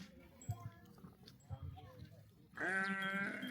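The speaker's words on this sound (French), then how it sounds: "Des chèvres." Goats on an island in Senegal bleat in one loud, drawn-out wavering cry near the end, after quieter rustling and people talking.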